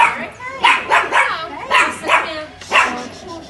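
A playful Labrador puppy lets out a series of short, close yips and barks in quick bursts, with a few whimpers between them.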